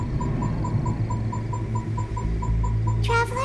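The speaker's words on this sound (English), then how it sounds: "There's the sound of electro zapping in the air." Constant buzzing electro energy crackles in the air in the Genshin Impact video game, a dense steady hum with faint repeating pulses and a brief rising zap near the end, with no voices.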